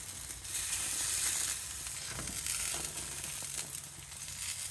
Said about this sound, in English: Let's see what the steak looks like when we flip it.